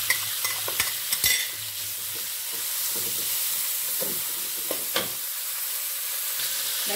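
Chicken stir-frying in a pan for an orak-arik of bamboo shoots, a steady hiss of frying with a few scraping clicks of a utensil early on, moderately close with no voices.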